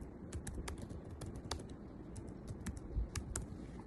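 A password being typed on a computer keyboard: quick, irregular clicks of individual keys, fairly close but soft, over a faint background hum, with no voices.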